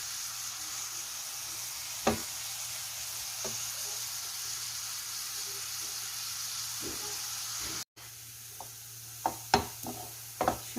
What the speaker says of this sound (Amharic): እዚህ ጋር ሽንኩርት እያቁላለሁ ነው።